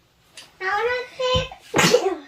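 Someone speaks during a board game playthrough, then a single sharp sneeze bursts out near the end, loud and close.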